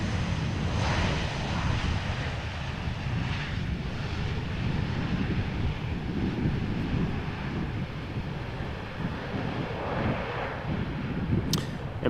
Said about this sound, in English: So this is the TUI MAX 8 arriving from Zakynthos.